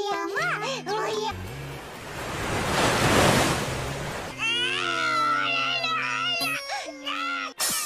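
An ocean wave surges and washes onto the seashore, a broad rushing swell in the middle, with a child and an adult talking before and after it.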